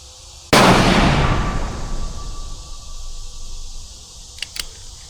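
A rifle fires one sharp, loud shot on the range, and its report decays slowly over a few seconds. A few faint clicks follow near the end.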